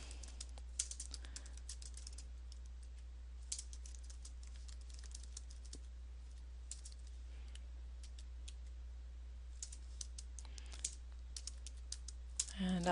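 Rapid, light clicking of a computer keyboard while code is typed, in irregular close-up bursts over a steady low hum, with quiet gaps between runs of keystrokes.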